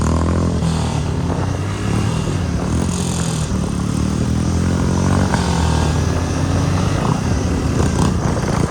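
A Royal Enfield Meteor 350 with a modified exhaust roars loudly and close, a continuous deep, throbbing drone with slight rises in revs throughout, no voices over it.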